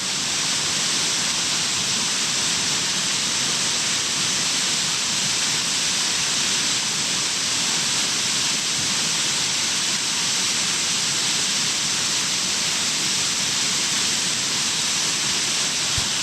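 A large mountain spring on Mount Banahaw in Tayabas, Quezon, pours out water in a steady, dense rush, with continuous hiss and roar close by and no pauses.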